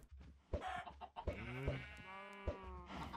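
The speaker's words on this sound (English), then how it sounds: "Hey, chickens." Chickens cluck and squawk in a Minecraft world, several short pitched bird calls repeating at close range, interleaved with other animal sounds and soft thumps from the game.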